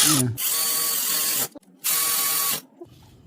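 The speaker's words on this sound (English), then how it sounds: "then we'll use the electric to snug it up" An electric ratchet snugs timing belt bolts on a Honda 3.0 or 3.5L Accord/Odyssey V6 engine. Two loud, steady buzzing whirs of about a second each are separated by a brief pause and a faint click.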